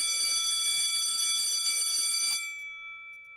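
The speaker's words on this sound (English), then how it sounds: "Ring the bell." A bell rung as a sound effect on a live sports talk show rings continuously and loudly for about two seconds, then stops abruptly, leaving a faint fading tail.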